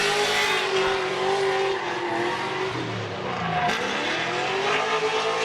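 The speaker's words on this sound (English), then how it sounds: "You hear that nice consistent throttle note." A Spec-D drift car at Agassiz Speedway qualifying holds a steady, buzzing engine note at constant throttle while its tires squeal continuously. The sound is loud and sustained, with a brief shift in pitch near the end.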